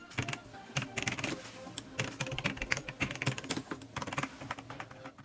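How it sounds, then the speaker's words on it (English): Rapid clacky keystrokes on a mechanical keyboard, continuous and close, with irregular bursts of clicking throughout. "the feeling of having a mechanical keyboard feels great. Just listen."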